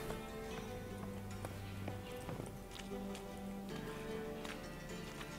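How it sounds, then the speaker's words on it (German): Horses in The Witcher 3: Wild Hunt, hooves clip-clopping in an irregular rhythm over a steady game music bed, moderately close. "Das sind die Pferde."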